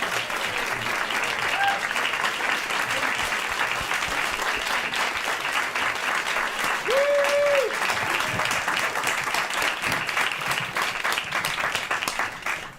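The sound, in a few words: audience applause for John Kerry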